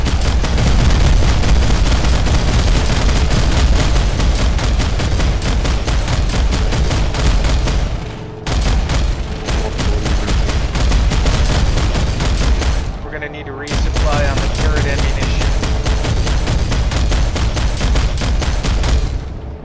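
Anti-aircraft guns in the Planetside 2 game fire in a loud, dense, continuous barrage mixed with other battlefield gunfire. It runs almost unbroken, with brief gaps near the middle, and voices are faintly present amid the din.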